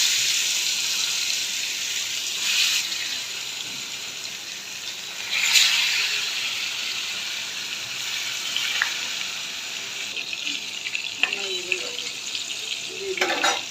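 Silver carp pieces frying in hot oil in a frying pan give a steady broadband sizzle throughout, with a brief louder burst and a few faint clinks of utensils near the end.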